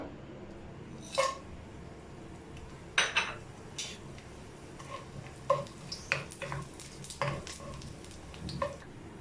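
Whole red chillies, cinnamon sticks, a bay leaf and black peppercorns are sautéed in a pan, giving a steady soft sizzle under scattered clinks and scrapes of a spoon stirring against the metal.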